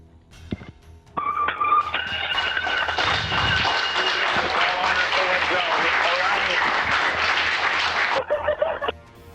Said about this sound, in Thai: ได้รับการต้อนรับจากเหล่านักบินอวกาศ 7 คน ด้วยเสียงปรบมือและการอบกอด